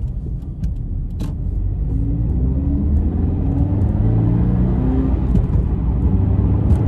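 A pearl white Subaru BRZ 2.0 S on 19-inch wheels and coilovers accelerates, engine rumble rising steadily in pitch through a gear, heard from inside the cabin, loud and continuous with no talk.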